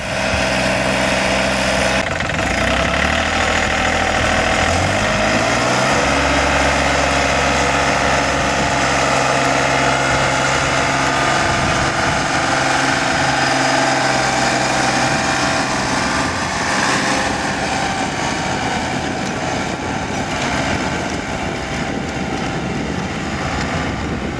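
A John Deere 3320 compact tractor pulls an antique disk through a field, its engine holding a steady, loud drone close by with a slight shift in tone early on; no one speaks.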